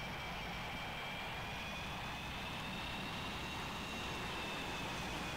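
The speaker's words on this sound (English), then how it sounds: "we're going to taxi over here to a stop" A jet fighter taxiing on a runway in the Strike Fighters 2 flight simulator game, a steady, even engine drone with a thin whine that rises slightly, unbroken and with no talking.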